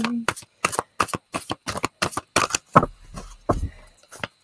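Oracle cards are handled and shuffled close up in quick bursts of riffling and slapping card noise with short gaps between, while a person talks over them.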